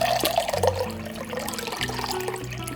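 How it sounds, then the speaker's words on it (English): Water is poured into a pot holding one cup of rice, a close, splashing gush with a gurgling, irregular flow lasting a few seconds. "I'm gonna do 2 cups of water."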